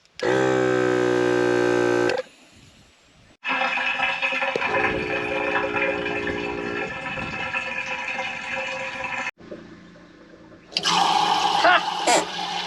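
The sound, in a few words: water flowing from tank pumped with compressed air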